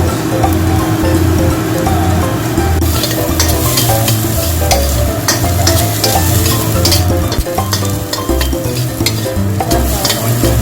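Fresh tomatoes being mashed and stirred in a hot pan for spaghetti sauce, a loud, steady sizzle with constant scraping and squelching strokes, close and with no voices.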